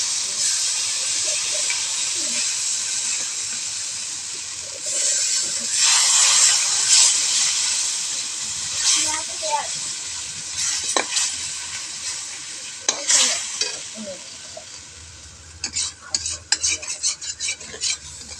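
Fish being sautéed with a little water and salt in a home kitchen pan, with loud hissing steam and sizzle under repeated scraping and clattering strokes of a metal spatula that turn choppy and rapid toward the end.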